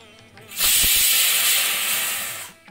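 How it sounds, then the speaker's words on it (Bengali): A pressure cooker whistles loudly as chickpea dal boils inside, one sustained steam hiss bursting in after a brief rattle and holding for about two seconds before fading out. "প্রেসারে তিনটে সিটি পড়ে গেছে ছোলার ডালটা"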